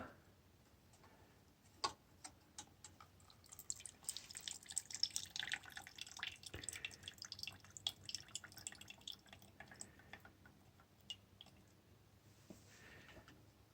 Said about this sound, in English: So I got this to catch the gas coming out of the bowl.